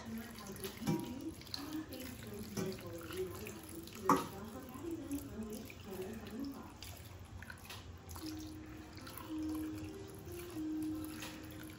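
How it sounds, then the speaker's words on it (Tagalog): Tap water flows into a pot for sinigang with talakitok fish and okra, a soft steady splashing and trickling heard close but quietly, with a brief clunk partway through. "Tapos lagyan natin siya ng tubig guys."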